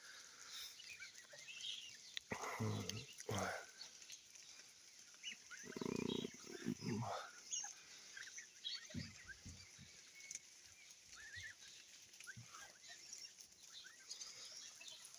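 Farm geese call in brief, honking bursts at irregular intervals, some loud and near, others fainter, against a quiet outdoor background.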